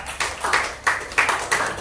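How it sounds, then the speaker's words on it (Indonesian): Students in a Grade 6 classroom clap together in bursts, several short waves of applause rising and fading close by, with no talk over them. "beri tepuk tangan untuk semua kalian ya, untuk kalian semua lah"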